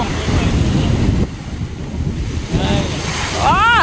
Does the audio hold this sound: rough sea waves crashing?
yes